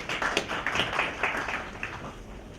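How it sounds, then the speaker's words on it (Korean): Applause welcoming a speaker at an emergency seminar on hydrofluoric acid leaks at Samsung Electronics, with a scattered patter of hand claps from a small audience that sounds somewhat distant and soft, with no talking over it. "힘찬 박수로 맞이해 주시기 바랍니다"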